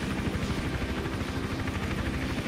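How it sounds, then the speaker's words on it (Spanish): Helicopter patrolling overhead in the stealth game Hitman Absolution, a steady, continuous rotor thrum with low throbbing beats, fairly close and alone without talk. "Pero el helicóptero está haciendo ronda"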